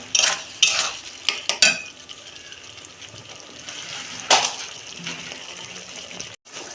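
Shrimp dropped into a pan with potato and eggplant, a few sharp clattering hits and spoon scrapes up front, then a softer steady sizzle with another clank near the end, close by and without speech.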